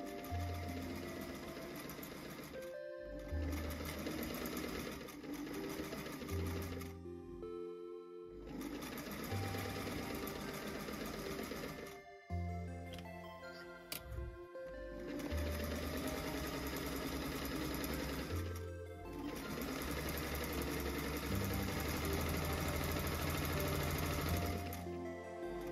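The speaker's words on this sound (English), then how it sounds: "Then both the net layer and the lining layer get lines of gathering stitches at the waist" Sewing machine stitching gathering lines across net and lining layers at a skirt waist, running in long steady whirring stretches of several seconds, broken by short stops, close up with no talking.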